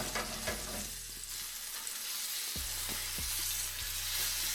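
Haddock fillets sauté in oil and butter with a steady, close sizzle throughout, broken by a few soft clicks and taps of a utensil or pan.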